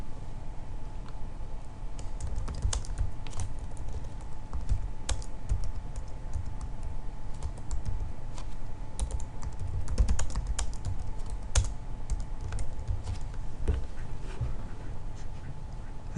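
Typing on a computer keyboard, soft irregular key clicks ticking along steadily over a low background hum, fairly quiet and without talking.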